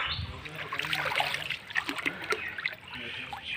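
Floodwater flowing and splashing during severe Assam flooding, a steady trickling, splattering rush of water heard close by with no talk over it.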